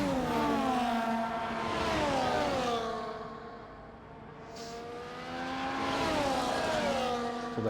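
Race cars on a track pass one after another, engines rising and falling in pitch as they sweep by, loud and close then fading before another surge.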